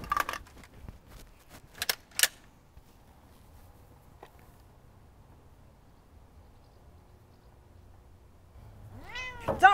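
A cat meows near the end, a close, rising and falling call after a long hush, with scattered footsteps and small clatters early on in a tense post-apocalyptic scene.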